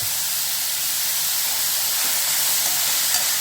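Onions sizzling in hot coconut oil in a frying pan, a steady close-up hiss and crackle of frying that holds evenly throughout with no talking.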